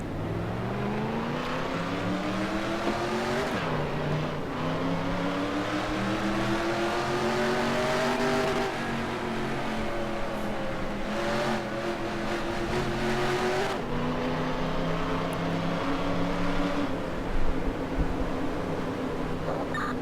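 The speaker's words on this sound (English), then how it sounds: "Drivers, start your engines!" Race car engines in the NASCAR Racing 2003 video game drone and rev continuously at close range, pitch rising and falling as the cars accelerate, with occasional tire squeal and no talk.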